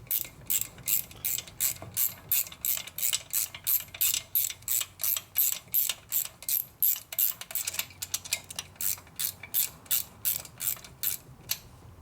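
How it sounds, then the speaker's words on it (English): A hand ratchet works on a 1972 Harley-Davidson FLH 98ci shovelhead engine head, a close, brisk run of rapid clicking bursts repeating in steady rhythm, with no talking. "Able to get a ratchet in here, kind of. Kind of goes in at an angle, but it does go."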